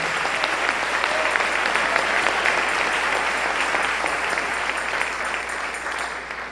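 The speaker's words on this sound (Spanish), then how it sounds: "Dale un aplauso al Rey en esta mañana" A church congregation applauds during a Sunday-morning Spanish-language sermon: dense, loud, continuous clapping that fills the room and fades slightly at the end, with no talk over it.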